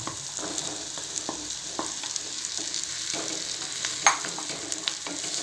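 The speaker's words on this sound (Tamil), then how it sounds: "நல்லா இந்த மசாலாலாம் இது கூட நல்லா பிளெண்ட் ஆகிற மாதிரி பரட்டி விட்டுக்குவோம்." Boiled jackfruit seeds with masala are stirred in a frying pan over a steady sizzle, soft scrapes and light taps of the spoon scattered through, one sharper clink near the end, close and without speech.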